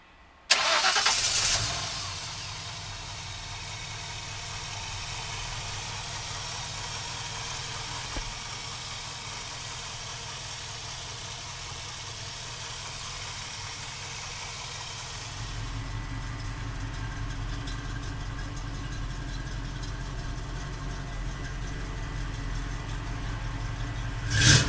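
A fiberglass-bodied 1940 Ford Cabriolet on a custom frame cranks and catches right away, then settles into a steady, loud idle that shifts to a slightly fuller tone about two-thirds of the way through.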